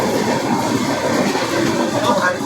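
A train pulling out of Bhubaneswar, heard from inside as a steady, loud rumble of the rail carriage rolling along.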